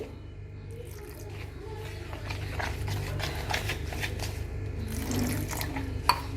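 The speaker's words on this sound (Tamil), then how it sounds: "கொஞ்சம் சோடாப்பு, கொஞ்சம் கொஞ்சமாக தண்ணி விட்டு கலந்து விடுங்க" Water trickles and splashes into soda-raised dosa-style batter as it is stirred and mixed, a low continuous sloshing with a soft clink near the end.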